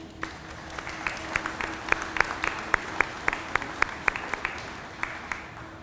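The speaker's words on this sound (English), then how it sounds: "it certainly deserves another round of applause." Sparse applause from a modest audience at a metal finishing company's re-opening ceremony, a few distinct claps standing out over a low hum, fairly faint and steady.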